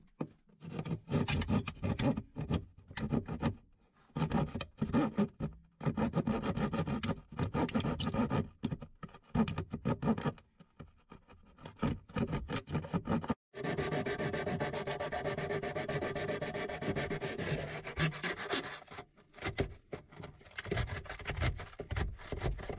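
A drill cuts a speaker hole into a VW T6 van panel, with harsh grinding and rasping bursts that stop and start, then a longer steady high-pitched whirring cut near the end.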